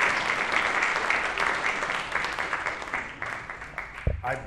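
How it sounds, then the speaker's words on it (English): An audience in a church gathering claps for several seconds in a dense, steady patter that thins out near the end, with talking mixed in. "Wait, you got to clap for me."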